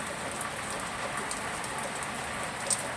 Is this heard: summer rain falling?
yes